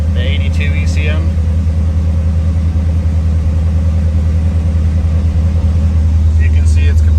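A 1982 Chevrolet Corvette C3, fitted with a 1984 engine control module and started cold, idles with a steady, even low rumble, close and continuous throughout, with faint high chirps near the start and end.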